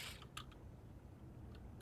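A camera-shutter style click sounds in a video game as a screenshot is taken, one sharp snap near the start followed by faint clicks, set over a low steady background hum.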